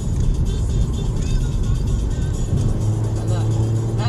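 A car driving fast on an Argentine freeway gives a steady loud road and engine roar from inside the cabin, with someone talking over it.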